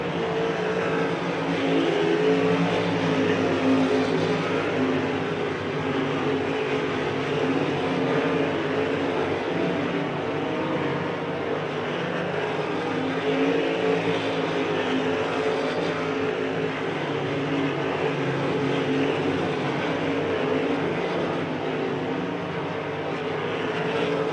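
A USAC 305 sprint race car roars past on a dirt track at Bloomington during Sprint Week, a loud, sustained engine drone that blends with continuous crowd and track noise throughout, with no speech.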